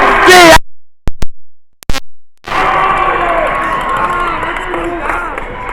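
Basketball crowd at a West Haven Blue Devils vs Sacred Heart Sharks game roars and cheers after a long three-point shot, a loud sustained wave of voices and shouts following a few sharp bursts.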